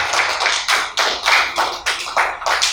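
Audience clapping loudly at a lifetime monthly pension distribution ceremony and mass prayer gathering, heard as a series of bursting rounds of applause that swell and pause in waves, close and full, with no talk over it.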